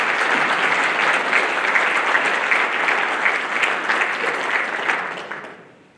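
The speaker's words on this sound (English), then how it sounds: "Let's give her a round of applause" Steady, dense audience applause fills a business pitch night hall, holding at an even level for about five seconds before tapering off and fading out near the end.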